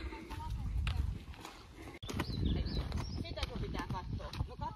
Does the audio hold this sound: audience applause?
no